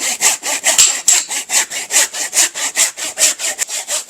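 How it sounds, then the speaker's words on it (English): A handsaw rasps through a hog's chest bone in quick, even back-and-forth strokes, close and loud, with no talking. "it's been a day or two since I've used a handsaw on this"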